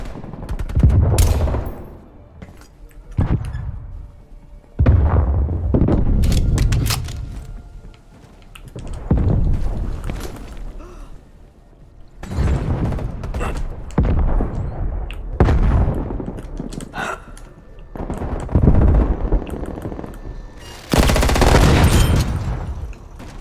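Bursts of automatic gunfire in the multiplayer shooter Call of Duty Black Ops Cold War, hardcore mode, loud repeated volleys separated by brief pauses, with sharp close shots.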